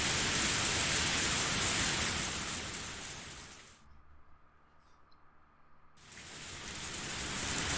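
Rain falls steadily in the Higurashi game, a soft hiss that cuts out to near silence for about two seconds in the middle before resuming.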